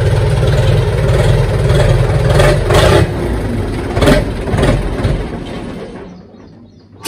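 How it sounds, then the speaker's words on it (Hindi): A Sonalika tractor engine runs loud and close, with rough low rumble; the revs surge around the middle in a few pushes before the sound drops away near the end, with no talking. "थोड़ी जी रेस देगा फिर मीटर उठेगा"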